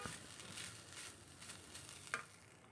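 Grated fresh coconut sautéed in a pan, a soft steady sizzle with light stirring scrapes and one sharp utensil tap near the end, quiet and close with no talking.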